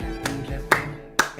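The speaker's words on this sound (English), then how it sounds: "Let's get clapping." A livestreamer claps his hands three times, loud sharp single claps spaced about half a second apart, close to the microphone, with a faint background hum.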